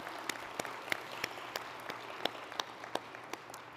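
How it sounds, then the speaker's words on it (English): Conference audience applauding a keynote panel at a privacy summit closing session, a fairly faint, steady patter of many hands with sharper individual claps standing out, heard from a distance in a large hall. "Let's give them a round of applause for an amazing keynote."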